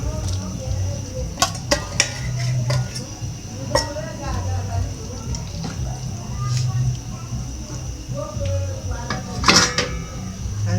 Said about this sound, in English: So I'm adding my beef first.